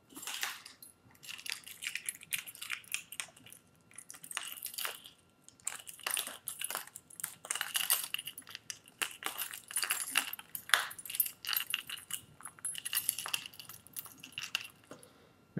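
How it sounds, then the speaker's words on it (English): A bunch of everyday-carry keys jangles and clinks repeatedly, with bright metallic rattles in bursts throughout, close up and with no talking. "My keys."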